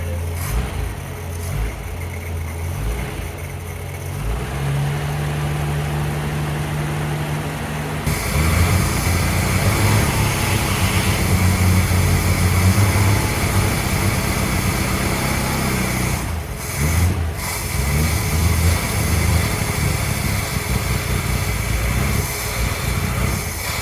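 The engine of a 1962 Ford Ranchero runs steadily with a rough, buzzing drone, then rises sharply in volume and pitch as the throttle is worked, holding a loud revved roar with brief dips, close by and with no talking.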